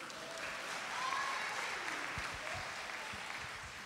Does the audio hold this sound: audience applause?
yes